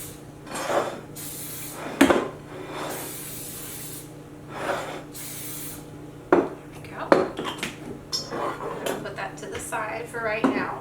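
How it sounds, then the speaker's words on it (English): Cooking spray hisses in several short bursts into an 8x8 baking pan, mixed with clinks and clatter of kitchen dishes and utensils nearby. "You're going to spray it with some cooking spray."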